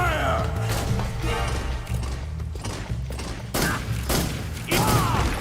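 Gunfire in Metal Gear Solid 3, several loud close shots and bursts in uneven clusters, with mechanical clatter between them and no talk over it.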